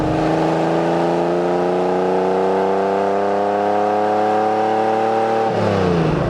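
Lamborghini Countach with a naturally aspirated engine accelerating, a loud, close, rising engine drone climbing steadily in pitch before a brief dip at a gear change.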